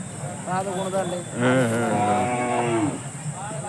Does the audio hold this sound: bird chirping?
no